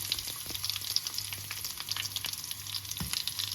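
Chopped ginger and small onions frying in a pan for coconut chutney, a steady close sizzle with light stirring scrapes and a low hum underneath, no voices.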